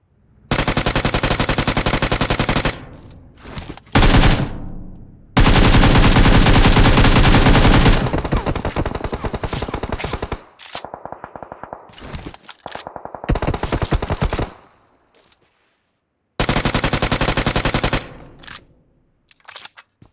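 Bursts of automatic gunfire from the battle-royale game PUBG Mobile, loud rapid volleys separated by short silences, some sustained for several seconds, others brief, with no talk over them.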